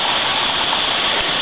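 Floodwater rushing loudly over a gravel back road, a constant close roar of flowing water with no pauses.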